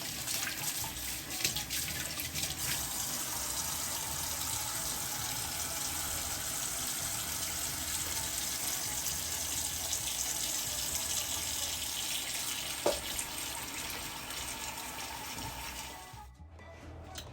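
Tap water runs steadily into a kitchen sink while fried cabbage is being prepared, a continuous broadband splashing rush lasting about sixteen seconds before abruptly cutting off, with no talking.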